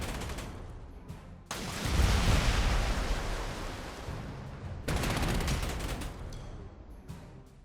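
Artillery and gunfire pound in the Panzer Corps 2 strategy game, with dense, rumbling blasts that surge in two long waves and sustained crackling bursts.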